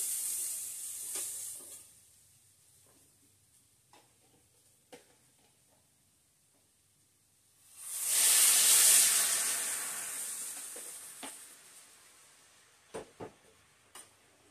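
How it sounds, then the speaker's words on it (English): Cream whisked into browned flour in a pan for a beef stroganoff with king blue mushrooms, giving a loud sizzling hiss and bubbling burst midway that fades over several seconds, with quieter stirring clinks before and after. "grab a whisk, and I'm going to start adding a little bit of cream"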